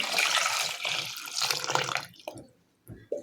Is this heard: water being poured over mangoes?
yes